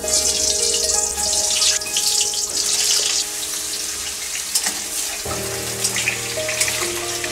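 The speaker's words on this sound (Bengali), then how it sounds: "তেলটা খুব সুন্দর গরম হয়ে গেছে, এবার আলুগুলোর টুকরো আমি দিয়ে দিচ্ছি।" Potato pieces, tinted with yellow food colouring, sizzle and hiss steadily in hot oil for a mutton biryani, a dense continuous crackle that shifts when more pieces go in partway through.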